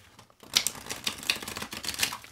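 Symbolon oracle cards are shuffled close by in a quick burst of crisp riffling clicks and flutters lasting about two seconds, with no voices.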